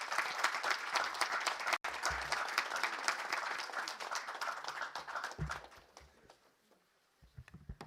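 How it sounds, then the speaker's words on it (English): A round of applause from the audience at the India AI Summit in Delhi, dense and sustained clapping that carries on for several seconds before thinning out and fading, with scattered claps returning at the end. "you already had a round of applause"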